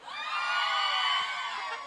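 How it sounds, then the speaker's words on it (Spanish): Audience at a contest show cheering and whooping: a loud crowd roar rising and holding for about two seconds, with high voices and shouts. "¡Aplauso para la cosita rara!"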